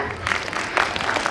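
Audience at a school annual function clapping loudly for two children, a dense burst of many hands close by, swelling briefly and holding steady.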